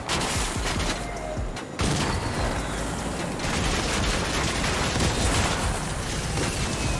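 Kit's shockwave launcher firing in Fortnite amid a dense, continuous barrage of game gunfire and booming blasts, loud and sustained throughout.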